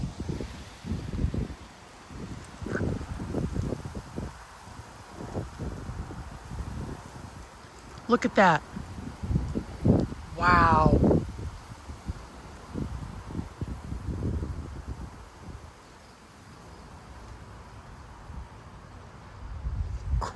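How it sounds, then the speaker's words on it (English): Strong 30 mph wind gusts rustle tree leaves in Frisco, Texas, ahead of an approaching storm, surging in broad whooshing bursts while someone talks and exclaims over them. "But holy cow, this is some wind right here."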